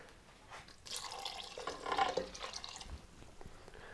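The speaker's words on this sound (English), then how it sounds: "in goes the water." Water is poured into a soup pot while making creamy mushroom chicken noodle soup, a soft, continuous splashing and trickling flow heard close up but fairly quiet.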